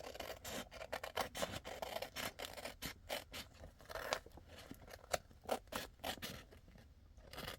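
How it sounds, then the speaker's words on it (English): Scissors snip through paper while an envelope is being made, a close run of quick crisp cuts and rustles at a fairly even pace, without talk. "And I'll just take my scissors"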